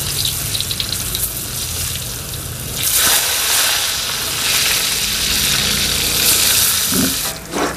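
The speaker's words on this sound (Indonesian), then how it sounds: "Minyaknya udah panas, Mak cemplungkan tempenya." Tempeh dropped into hot cooking oil crackles and sizzles close up, the frying growing louder and denser partway through and holding as a steady bubbling hiss.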